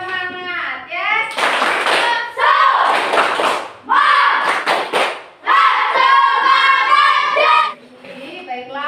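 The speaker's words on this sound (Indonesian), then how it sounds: "coba sekali lagi yuk kita tepuk semangat ya, lebih semangat" A primary school class performs a rhythmic clapping chant, children's voices calling out in unison between bursts of loud, close, patterned hand claps, with a few pauses between phrases.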